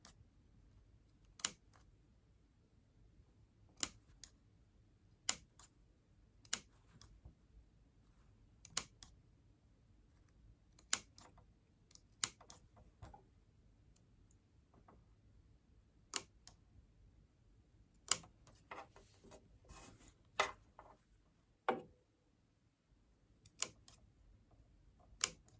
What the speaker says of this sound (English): So I'm going to snip 2 but not through my stitching